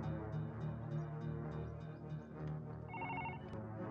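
A telephone rings with a repeating electronic trill over a dense, loud musical background, the tone pulsing in quick bursts.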